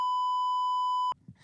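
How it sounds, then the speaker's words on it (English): A single sustained censor beep, a steady pure electronic tone held loud for just over a second, then cut off abruptly into faint background noise. "I'm going to have to fucking beep that out now."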